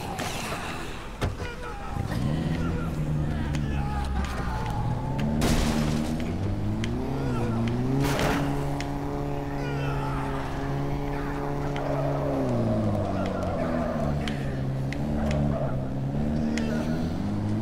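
A car engine in the video game Dead Rising 3 hums and revs, rising and falling in pitch as it drives, with a voice talking over it.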